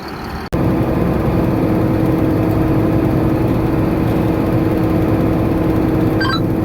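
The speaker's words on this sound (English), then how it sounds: "She's a good tractor." Tractor engine running steadily while pulling a small grain cart, a loud continuous mechanical drone close by with no talk over it after a brief break at the start.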